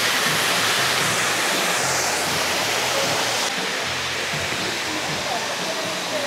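Balite Falls in Amadeo, Cavite roars with a loud, continuous broadband rush of falling water, steady and close throughout with no break.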